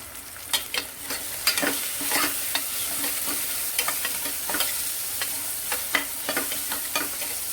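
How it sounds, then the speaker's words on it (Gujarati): Chopped onion sautéing over low heat in a pan for khichdi, a continuous sizzle broken by repeated sharp spatula scrapes and stirring clacks at an uneven rhythm, close and clear with no talking. "એને ની આંચ પર સરસ સોટે કરી લેવાની છે"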